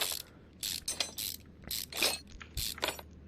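Car fan being removed in Car Mechanic Simulator, a quick series of ratcheting, clicking tool and part sounds in short bursts, close and fairly quiet, with no talk.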